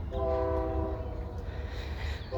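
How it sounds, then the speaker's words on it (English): A train passes in the distance behind a garden, its horn holding a steady multi-tone note over a low continuous rumble of rolling wagons. "There's our lovely train in the background."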